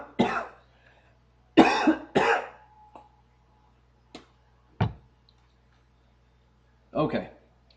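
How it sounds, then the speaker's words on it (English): Several coughs and throat clearings during a pause in a probability lesson, close to the microphone, in bursts of two or three with quiet gaps and a few small clicks between them. "I'm going to take a quick cough break."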